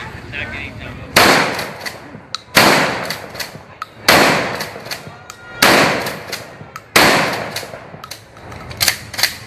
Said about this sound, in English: Just that quickly, we shoot 5 rounds